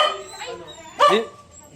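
A dog whimpers and gives a short yip close by, with a thin high whine lingering around the sounds.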